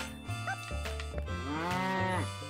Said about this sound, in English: Whoa, that's a big cow!